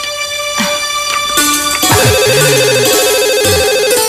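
A telephone rings indoors with an electronic ringtone, a steady warbling tone repeating for several seconds, loud and close, while other tones and clatter sound around it.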